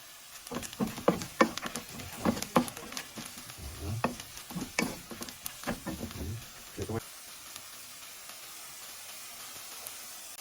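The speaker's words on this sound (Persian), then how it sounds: "پیازا قشنگ باید سرخ بشن، زرد بشن" Onions sizzle and fry in a pan with turmeric, stirred with scraping and crackling bursts, close and steady, fading to a soft hiss near the end.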